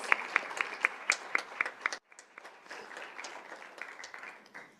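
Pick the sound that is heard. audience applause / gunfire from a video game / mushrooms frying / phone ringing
audience applause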